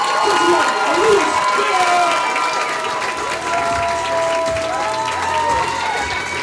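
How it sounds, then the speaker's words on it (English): Clapping and cheering rise from a crowd at a comedy show in Oakland, steady and fairly loud, with shouting voices and whoops riding over the applause. "I need y'all to start clapping right now"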